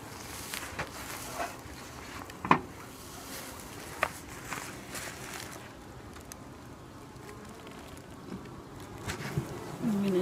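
Honey bees buzz in a newly installed package hive ten days after installation. The hum is steady and moderately close, broken by a few sharp knocks and handling sounds as the hive is opened.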